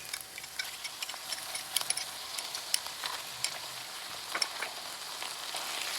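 Ginger and garlic frying in a pan for lamb bhuna, a soft, even sizzle scattered with small crackles and pops, fairly quiet and close, with no talking.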